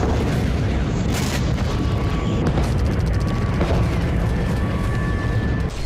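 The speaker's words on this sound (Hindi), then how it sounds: "तभी अचानक धमाकों की गूंज से थर्राने लगा डोनेस्क।" Explosions echo over Donetsk at night, a heavy, continuous low rumble with dull booms rolling through it and a faint high tone drifting in and out, loud throughout with no voices.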